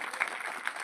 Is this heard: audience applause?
yes